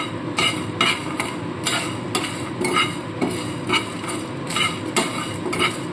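Whole spices for a mutton korma dry-roasting in a hot pan, with repeated scraping and clinking strokes of a spoon stirring them in a steady rhythm, close and fairly loud, no voices.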